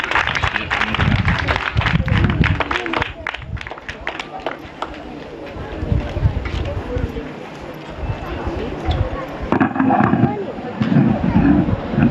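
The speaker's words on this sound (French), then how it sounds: "Tous vos applaudissements." An audience at a storytelling gathering applauds the elder Amadou Bassi, with dense, sustained clapping lasting the whole stretch. The sound swells and thins slightly, and a voice or two may be mixed into the crowd noise.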